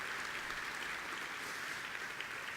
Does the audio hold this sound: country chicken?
no